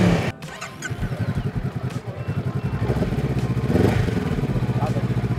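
Close by, a modified Honda motorcycle with an aftermarket exhaust idles with a deep, throbbing pulse and builds into a couple of revs, while people chat in the background.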